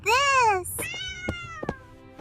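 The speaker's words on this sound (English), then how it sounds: "Meow." A cat gives a loud, drawn-out meow close by, followed by fainter, softer vocal sounds and small clicks.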